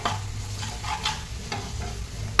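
Ginger, garlic, red chilli powder, turmeric and salt sautéing in hot oil for pav bhaji, a steady close sizzle with several scraping stirs of a spoon and one sharp clack at the end.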